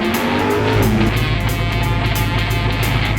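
Steady, loud hum of a Citroën C3 with its 1.1-litre 60 hp engine, heard from inside the car while driving, with continuous road and engine noise throughout.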